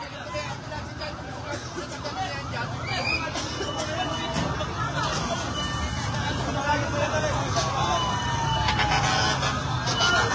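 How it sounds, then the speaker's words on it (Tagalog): Fire truck sirens wail amid a residential fire in Las Piñas City, Philippines, with their rising tones weaving through the noisy crowd and shouting voices nearby. "Oh, bumbero pa!"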